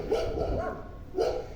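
A dog barks in the background, giving a few muffled, moderately loud barks in two bursts, with no talking over them.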